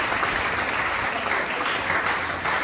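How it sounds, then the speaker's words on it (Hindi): Congregation at a church service claps together in a loud, steady burst, a dense uninterrupted patter of many hands with no voices over it. "Can you clap for that, brother?"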